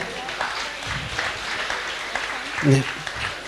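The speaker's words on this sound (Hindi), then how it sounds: "ज़ोरदार तालियों से प्लीज़ इनका स्वागत किया जाए." An audience applauds to welcome a guest onto the stage at a transgender rights session, with a continuous spread of clapping under a speaking voice.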